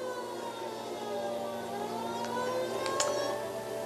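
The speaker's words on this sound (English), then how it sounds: "Alright, got the siren on." A police car siren from the video game L.A. Noire wails steadily at a constant level throughout, blended with a busy wash of engine and street noise.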